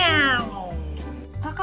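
A cat meows once with a falling, drawn-out cry, followed by voices talking over a low background hum.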